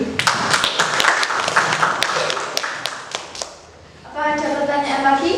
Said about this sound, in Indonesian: tepuk tangan untuk kelompok 7